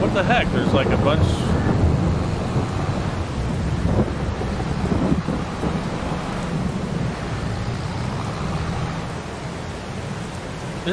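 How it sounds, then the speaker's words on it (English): Thunderstorm with rain in the farming game Farming Simulator 22: a loud rumble of thunder opens, then a steady hiss of rain and wind carries on through the rest. "Is it starting to rain?"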